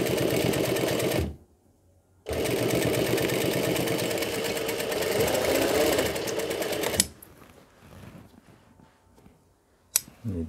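Sewing machine stitching the box-pleated bodice of a Cinderella-style gown: a fast, loud, continuous mechanical chatter that stops for about a second, runs again for several seconds, then gives way to quiet handling sounds and a click.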